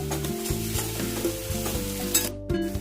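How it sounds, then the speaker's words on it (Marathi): Ginger garlic paste sizzles hard in fried onions for mutton sukka, with steady frying hiss and clinking stirring taps from a spoon in the pan, close and alone without talk. "ह्याच्यामध्ये आपण अद्रक लसूणची पेस्ट टाकणार आहोत"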